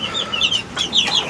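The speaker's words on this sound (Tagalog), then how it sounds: "Ito yung pinaka maamo na sisiw sa akin." Young chicks of about one month old give several quick, high chirping clucks at close range, overlapping in irregular bursts with no talking.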